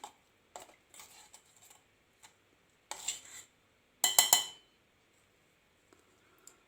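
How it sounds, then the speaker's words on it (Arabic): A small spoon clinks and scrapes against a bowl or cup while ingredients for a home cold and cough remedy are stirred together, in sparse light taps building to a brief, brighter cluster of clinks. "كنخلطوا هاد المكونات مع بعضهم"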